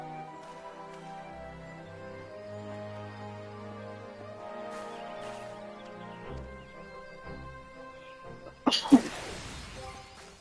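A short, sharp sneeze bursts out near the end, loud and close, after a long stretch of soft ambient music in a Final Fantasy XIV Halloween event.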